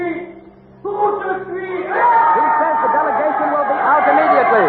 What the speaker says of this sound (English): The crowd is quieting down a bit now.